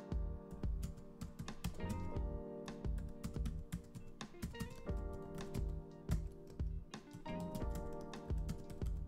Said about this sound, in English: Just type this command.